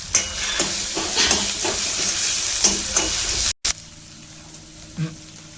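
Onions frying in a pan with curry leaves and ginger paste for a spicy aloo paratha filling give a loud, steady sizzling hiss. It cuts out abruptly for a moment, then returns as a quieter sizzle with no talk.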